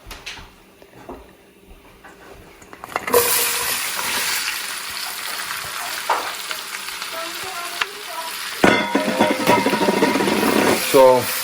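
Chopped onion hits a hot pan of cardamom and coriander seed and erupts into loud, steady sizzling frying close by, with stirring scrapes and a brief clatter partway through.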